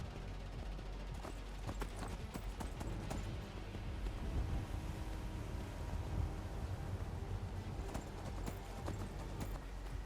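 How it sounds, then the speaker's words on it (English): Horse hooves clip-clopping at a steady, brisk rhythm as a mount rides across a bridge in Skyrim, moderately close and continuous under faint ambient game sounds, with no speech. "Get on your horse and head east across the bridge."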